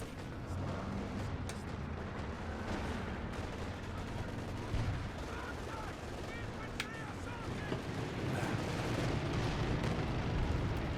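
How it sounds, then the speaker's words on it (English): Artillery and gunfire in the World War II strategy game Company of Heroes 2 on the La Glieze map, a dense rumbling barrage with sharp shots and blasts, heard under a commentator's voice. "taking heavy hits on the way out with the artillery"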